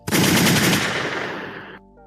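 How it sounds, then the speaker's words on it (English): A loud, rapid burst of machine-gun fire, a dense rattling volley lasting nearly two seconds before cutting off, with a faint ringing tail after it. "let me get some gunshots real quick"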